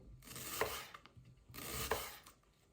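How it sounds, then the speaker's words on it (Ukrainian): A knife slices an onion into thin half-rings, giving two quiet, close passes of crisp cutting strokes, each ending in a soft tap on the board. "І потім ось такими напівкільцями не дуже товсто, тоненько, друзі, ось так нарізаємо всю нашу цибульку."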